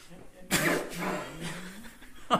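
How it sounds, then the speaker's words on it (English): A person coughs while working on a Honda CRX in a garage. A single sharp burst is followed by a short rumbling tail, and a second cough starts at the very end. "No, I was just coughing."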